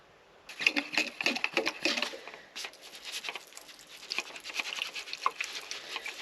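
Rain falls outdoors at a tiny-house building site in Portugal, a close, steady patter of dense droplet taps with scattered sharper drips throughout.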